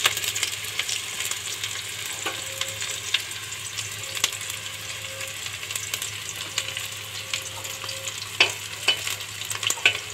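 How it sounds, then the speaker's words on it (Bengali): Onions frying in hot oil in a wok hiss with a continuous close sizzle, with scattered crackles and occasional scraping stirs over a low steady hum, and no voices. "কড়াইয়ে তেল দিয়েছি, তেলটা গরম হলেই পেঁয়াজ দিয়ে দেব। পেঁয়াজটা লাল লাল করে ভেজে নেব।"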